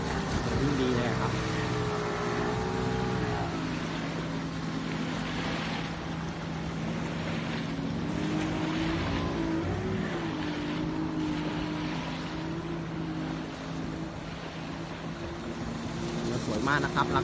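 A Yamaha YF 21 boat with a 200 hp TDI two-stroke outboard runs on the water, a steady loud engine drone with rising and falling pitch and rushing wind, with someone talking over it.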